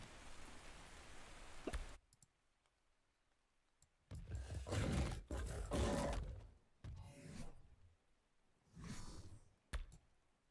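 A dinosaur in Ark Survival Ascended, Scorched Earth map, gives long, loud, rough roaring bursts between quiet gaps, over a soft hiss of in-game rain.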